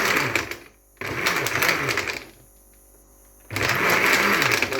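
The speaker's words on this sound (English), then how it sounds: "So he pours some water in, put it back in the blender." A blender whirs through soursop and water to pull out the juice, running in three short bursts with brief quiet pauses between them, the motor near and fairly loud.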